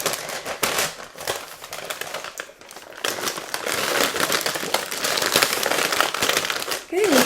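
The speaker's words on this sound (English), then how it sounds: "So we'll roll it up into parchment paper gently." Parchment paper crinkles and rustles steadily while it is rolled gently around cookie dough for icebox cookies, close and fairly loud, with a short break midway.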